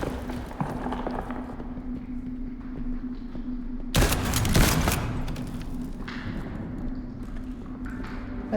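A shotgun blasts once in the game Liberated, a sharp loud crack that bursts out of a steady low background hum and quickly trails off into rattling echoes.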